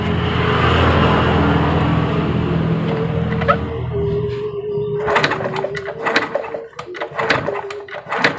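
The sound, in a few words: kick-starting Honda Supra motorcycle engine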